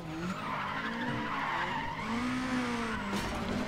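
Lotus Elise skidding in the racing game Need for Speed: ProStreet, a continuous loud tire squeal with wavering pitch over steady engine roar, lasting throughout.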